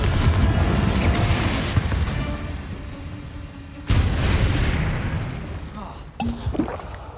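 Confringo spell explosions in the video game Hogwarts Legacy: two heavy booming blasts a few seconds apart, each decaying slowly, followed by a smaller burst near the end, loud and close.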